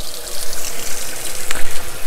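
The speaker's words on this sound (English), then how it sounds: "fill your sink with some cool water" A kitchen sink fills with cool water from the tap, a loud splashing gush that surges unevenly, close by and with no talking.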